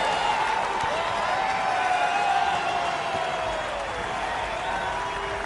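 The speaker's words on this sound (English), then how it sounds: "He's applauded, the crowd goes wild." A large cricket crowd in South Africa applauds a batsman's one-day international century, a steady roar of clapping and cheering from the stands, distant and continuous, under a commentator's voice.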